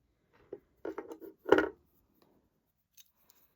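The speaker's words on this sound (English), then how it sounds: "cut your wire about that much" Wire cutters snipping jewelry wire for beaded earrings: a few small, crisp clicks close by in a quiet room, with one sharper snip standing out, and no talking.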